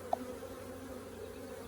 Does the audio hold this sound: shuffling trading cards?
no